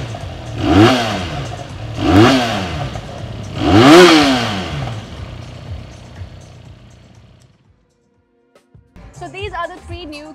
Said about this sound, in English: let me now bring your attention to what this bike sounds like, because I'm quite convinced this is the best sounding of the three